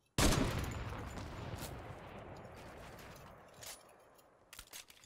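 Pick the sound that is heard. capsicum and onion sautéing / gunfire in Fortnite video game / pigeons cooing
gunfire in Fortnite video game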